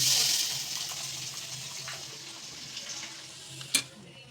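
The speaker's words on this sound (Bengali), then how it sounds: "এখন প্রথমেই নারকেলটা ভেজে নেব" Coconut fries in oil in a wok with a soft, continuous sizzle and light stirring, close by, with a brief sharp clink near the end.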